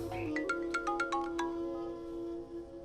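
Phone ringtone chiming in a rapid run of bright, evenly spaced electronic tones over a steady sustained hum, close and loud, with no talk.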